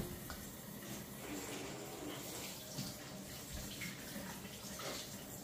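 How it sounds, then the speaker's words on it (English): Green plantains rinsed under a running kitchen tap, a quiet, steady hiss of flowing water with faint splashes and handling noises throughout. "First thing I'm gonna do to them is wash them."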